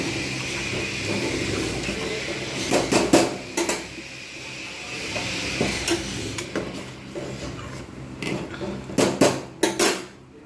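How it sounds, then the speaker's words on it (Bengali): A spoon stirs mango payesh made with Gobindobhog rice, cashews, raisins and dates in a metal pot, giving off intermittent clinks and scrapes. The sounds are close, in irregular clusters over a steady background hum. "ভালো করে আমি এখন এটাকে নাড়বো।"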